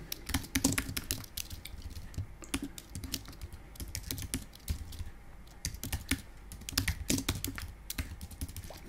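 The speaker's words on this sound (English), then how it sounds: "You can see my typing is going to pot now" Fast, uneven typing on a computer keyboard, the keys clattering steadily in bursts throughout with short pauses, close and fairly loud, while a 1987 Speedlock-protected Dizzy game is transferred to disk.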